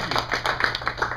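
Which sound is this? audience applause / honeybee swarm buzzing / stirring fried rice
audience applause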